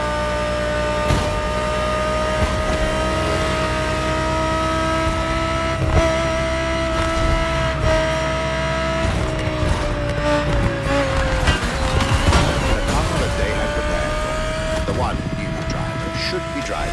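A 2020 Audi R8 LMS GT2 race car drives in a racing game, its engine droning in a steady, loud tone that shifts pitch partway through, with a voice talking over it.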